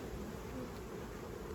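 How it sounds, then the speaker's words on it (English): A dense, steady buzz of honey bees at a hive in a botanical garden carries on throughout, moderately quiet, with no talking. "these could be just bees that are working the whole colony as one"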